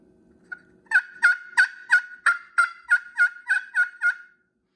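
Turkey yelps worked on a friction call with a striker, the call held at an angle: a close, steady run of about eleven evenly spaced, raspy yelps with nothing else beneath them.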